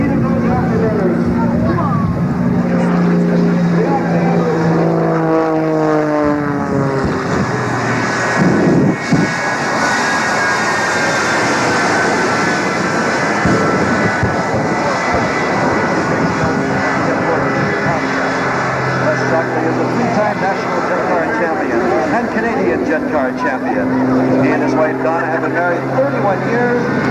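Military jet engines roaring with afterburners at a 1994 Air National Guard air show, a loud continuous thunderous roar with shifting whining tones that fills the whole stretch.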